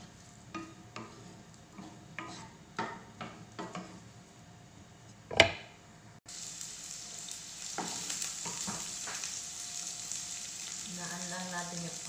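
Chopped onion drops into hot oil in a pan, starting with a few clatters and knocks before a loud, continuous close sizzle of frying takes over.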